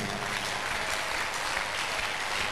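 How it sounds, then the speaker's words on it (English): Crowd at a healing crusade gives a steady, continuous round of applause offered to Jesus, even and full throughout with no clear speech. "A big clap of offering to Jesus."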